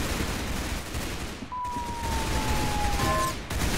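Video game gunfire, a rapid burst of shots with an explosive crack near the middle followed by a faint tonal whine, all over a dense noisy game background.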